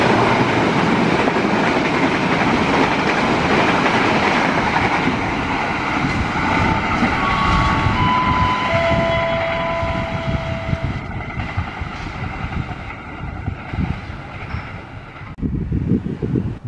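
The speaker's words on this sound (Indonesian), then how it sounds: "Barusan kereta api Saunggali 112 spesial memakai lokomotif livery liburan sekolah." The Saunggali 112 special train, hauled by a locomotive in school-holiday livery, roars past close by, with loud rumbling wheels and clattering cars gradually easing off toward the end.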